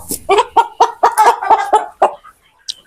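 A rooster lets out a run of loud, close, rhythmic clucks and squawks as it is handled for weighing, about eight bursts, then trails off into a faint final call.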